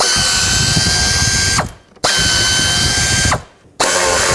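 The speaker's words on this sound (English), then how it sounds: "now I'm just going to unbolt this whole bracket off of the intake." A ratchet spins 10mm bolts off an intake bracket on a 1997-2003 Ford F-150, giving two long bursts of fast, loud clicking close up, each ending in a brief pause.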